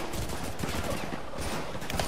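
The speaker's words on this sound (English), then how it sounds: "there's too many people shooting at me" Dense gunfire in the shooter Modern Warfare 2 Remastered, rapid overlapping shots in a continuous barrage, loud and steady throughout.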